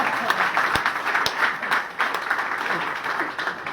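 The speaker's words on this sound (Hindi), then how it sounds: "ताली एक बार और बजाओ" A full room of trainees at an IMC Business training session applauds, a continuous wash of many hands with a few sharper nearby claps standing out, sustained at a constant loudness.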